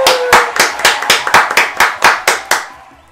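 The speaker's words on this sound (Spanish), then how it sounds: "un aplauso" About a dozen loud, evenly spaced hand claps ring out close by in a steady rhythm, with no voice over them, before stopping abruptly after three seconds.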